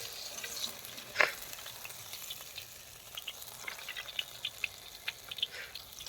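Halwa fish fries in hot oil with faint, scattered crackles and soft sizzling pops, one sharper spit early on, quiet and alone without talk.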